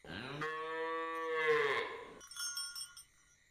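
A single long, loud cow moo, rising and falling, followed by a few light metallic bell clinks.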